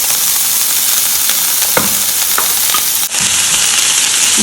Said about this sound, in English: So you saute your onions for 1 minute, and then you go ahead and add your pepper, tomatoes, and the carrots.